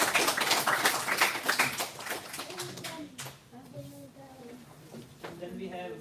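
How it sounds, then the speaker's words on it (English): A group claps together at a Guru Poornima satsang at an Art of Living centre in Frankfurt: a dense burst of applause for about three seconds that gives way to people talking. "Big round of applause for all."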